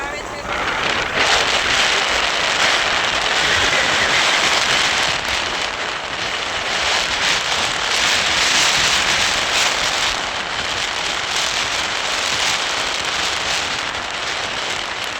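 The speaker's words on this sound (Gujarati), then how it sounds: "જો વરસાદ પણ આવે છે." Steady rain pours down outdoors near farm fields, a continuous loud hiss with some wind buffeting the microphone, constant throughout.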